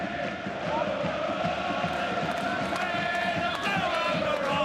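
A large football crowd at an FA Cup match between Town and Liverpool roars and cheers continuously, loud and sustained with rising shouts across the stadium.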